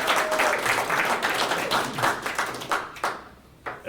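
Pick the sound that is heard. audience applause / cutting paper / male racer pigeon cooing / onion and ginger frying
audience applause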